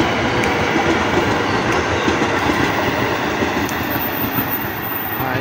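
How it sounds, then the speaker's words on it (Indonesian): A KRL commuter electric train in Jakarta rumbles past at close range, a steady heavy roar with rhythmic wheel clatter throughout and no voices. "Dan ini kereta KRL dari"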